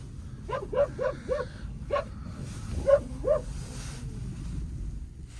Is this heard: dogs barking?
yes